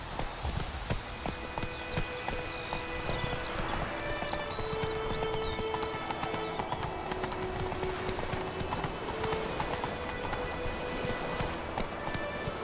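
Horse hooves clip-clop in a steady, quick rhythm in the video game The Witcher 3, with a whinny and game ambience underneath.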